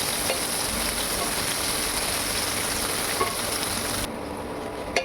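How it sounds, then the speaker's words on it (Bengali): Steady, dense sizzling of onions frying lightly in hot oil for mushroom masala, a continuous crackling hiss with a few faint clicks, no voices. "পেঁয়াজটাকে হালকা করে ভেজে নিতে হবে"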